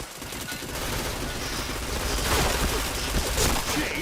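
Dense rapid gunfire from the video game Point Blank, with overlapping bursts of automatic shots that run continuously and loudly throughout.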